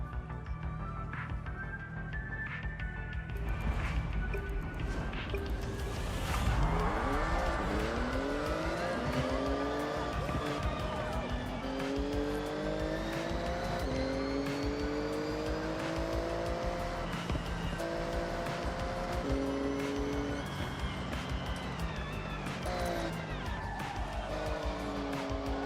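A Porsche race car in Forza Horizon drives hard, its engine revving up and down through repeated gear shifts, with tire squeal and other cars nearby, loud and continuous.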